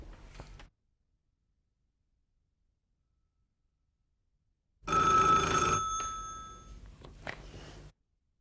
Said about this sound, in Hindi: सर, ये अख्तर साहब का फ़ोन है सर